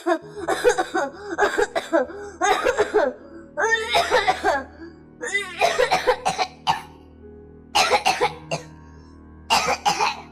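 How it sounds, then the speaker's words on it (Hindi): A young girl coughs repeatedly in harsh, wet fits, separated by short pauses, close and loud. "तेरी खांसी ठीक क्यों नहीं हो रही?"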